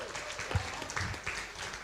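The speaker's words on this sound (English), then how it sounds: "Everyone give Keith a round of applause." A magic-show audience gives a brief burst of clapping, fairly faint and scattered, rising and fading over a couple of seconds.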